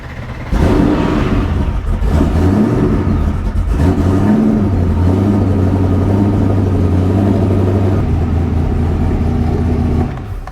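Ultima RS sports car engine on a cold start with a dry sump oil system, catching and settling into a loud, steady close-range idle for about ten seconds before cutting off.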